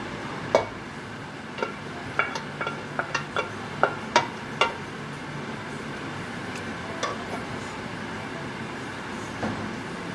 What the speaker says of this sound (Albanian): E përzim lepurin me qepën